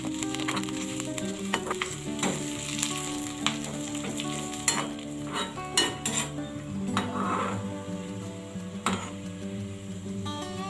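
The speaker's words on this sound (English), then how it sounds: "Then add curry leaves and saute it 3 to 4 minutes until onion gets golden brown." Onions and curry leaves sauté in hot oil for a cucumber curry, giving a steady close sizzle throughout with occasional scraping stirs and clinks of a utensil against the pan.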